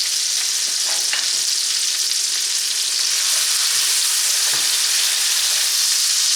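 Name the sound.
sautéing vegetables with minced garlic in a skillet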